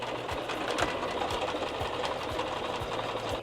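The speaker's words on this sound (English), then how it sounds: "we're going to sew almost all the way around" A sewing machine runs steadily, stitching a fabric pocket onto a pair of jean shorts, its needle tapping in a fast, even rhythm that carries on without a break, close up and alone.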